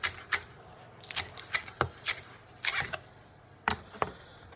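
A knife chops green onion on a cutting board in a series of crisp, irregular taps and thuds, close and fairly quiet.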